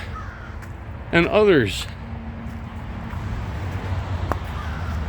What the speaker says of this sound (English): Now I hear crows.